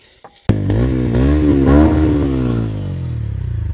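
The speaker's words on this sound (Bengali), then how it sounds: "এর সাইলেন্সার আওয়াজ ভাই মাশাআল্লাহ খুব সুন্দর" A TVS Ronin 225 motorcycle starts with a sharp crack, then revs up loud and close, the exhaust note rising and falling before settling into a throbbing, pulsing idle.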